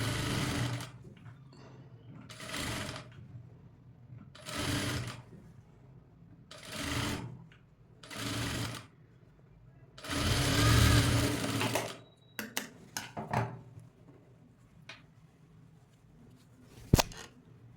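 A sewing machine stitching a blouse sleeve at the shoulder seam runs in repeated short bursts of rapid whirring, close and clear, separated by quiet pauses and light handling clicks.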